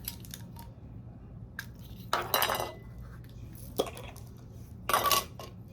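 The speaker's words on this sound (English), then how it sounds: "we're going to mix just a little bit of each herb into the mortar" A metal spoon clinks and scrapes against a mortar while mixing dried herbs such as chamomile flower, giving scattered sharp taps and a few longer rattling scrapes over a low steady hum, quiet and close.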